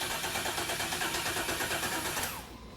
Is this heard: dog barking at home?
no